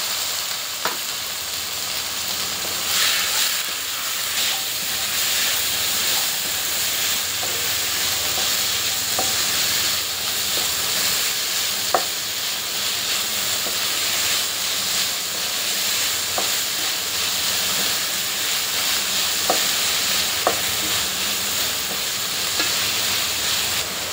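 Prawns sizzle in an onion-tomato masala for prawn curry. The frying hiss stays steady throughout, with scattered spatula scrapes and taps against the pan and no voices.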